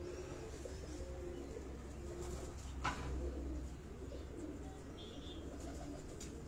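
Soft, distant pigeon cooing drifts over steady low outdoor hum on a rooftop pigeon loft in Rawat, around a pair of fancy pigeons, with a brief knock partway through.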